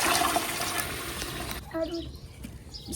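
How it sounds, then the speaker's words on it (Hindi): Water pours and splashes steadily into a pot of rice, then stops, leaving a few faint clinks and trickles. "अब हम पानी शामिल करेंगे 4 जम"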